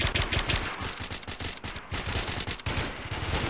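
Rapid automatic gunfire from a Warmode shooter match, dense bursts of shots cracking in quick succession with brief gaps, loud and close, no talk over it.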